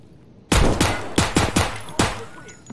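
A burst of loud, close gunfire from Escape from Tarkov: about six sharp shots in quick irregular succession, each with a short ringing tail.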